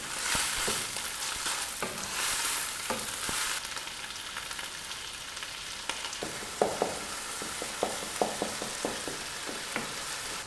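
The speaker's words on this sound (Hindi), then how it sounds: "टमाटर को भी हमने कीमे के साथ 2 से 3 मिनट तक मीडियम फ्लेम पर भून लेना है।" Minced meat and tomatoes frying over a medium flame: a continuous close sizzle broken by sharp clicks and knocks of a spoon scraping the pan, busier in the second half.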